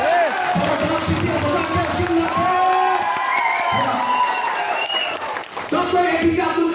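An indoor audience applauds and cheers at a network marketing seminar, a steady wash of clapping with a few whoops and voices mixed in throughout.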